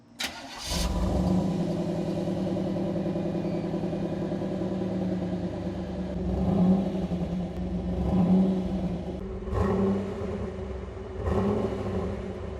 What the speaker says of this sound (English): I think this 35-year-old exhaust still sounds pretty good